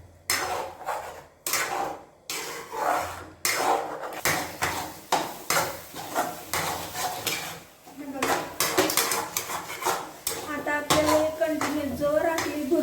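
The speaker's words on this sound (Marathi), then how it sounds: "आता हे आपल्याला छान एकत्र मिक्स करायचं आहे" A utensil scrapes and clatters in a pan while beaten egg is stirred into fried onion for egg bhurji, busy irregular metallic clinks and scrapes with a faint sizzle building near the end.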